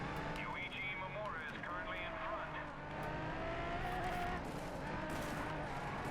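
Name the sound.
car engine racing in video game Race Driver GRID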